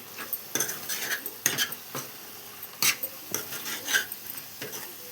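A spoon scrapes and clinks in irregular strokes against a pan while green brinjal curry with green chillies is stirred, with a faint sizzle underneath.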